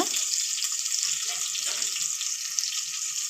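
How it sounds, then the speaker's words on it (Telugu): Onions frying in hot oil for a Telangana-style boti curry give a close, steady sizzle that hisses continuously without pause, with faint clinks underneath. "మంచిగా ఫ్రై కావాలి ఉల్లిగడ్డ"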